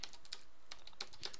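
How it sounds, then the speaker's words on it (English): Quick, irregular clicking of keys on a computer keyboard while coding, close and fairly quiet, with no voice. "I might as well not talk and just go ahead and start typing."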